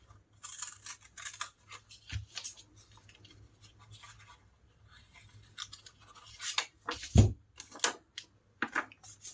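Scissors cut a fabric pocket pattern piece for an Italian pocket, producing a string of quiet, close, irregular snips and crisp blade scrapes in an otherwise hushed room.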